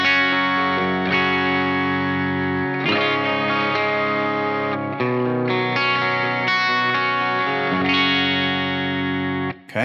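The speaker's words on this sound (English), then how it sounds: "So here's how his patch sounded on clean." Clean electric guitar through a Line 6 Helix amp modeler, sustained strummed chords with shimmering chorus and echo, steady and fairly loud, no voices.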